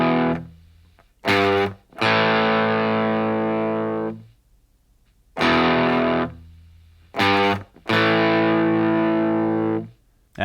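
A riff on a heavily distorted electric guitar: two short muted chord stabs, then a long ringing chord that fades, the whole pattern played twice, loud and alone.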